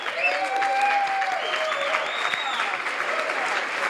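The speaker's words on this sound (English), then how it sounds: "I think we got to give a really loud applause here for the folks here at Madden's" Wedding reception guests applaud at Madden's in a sustained burst of clapping, with a few voices and whoops carrying over the dense, even sound.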